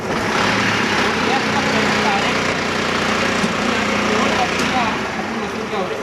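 An alternator test rig is switched on and runs with a loud, steady motor hum and mechanical whine that continues throughout and eases off slightly near the end.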